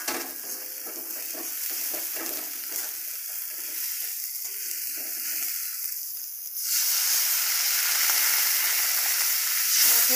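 Water is poured into a pan of spice paste fried in oil, turning a steady frying sizzle into a louder, sudden, continuous hiss of steam.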